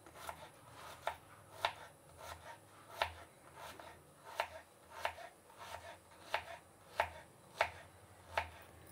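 A knife slices a red onion into thin strips, each cut landing as a faint, crisp tap in a steady rhythm of about one or two per second.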